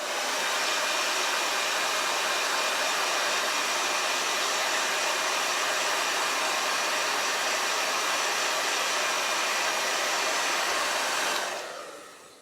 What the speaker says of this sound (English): I do believe I'm going to dry this.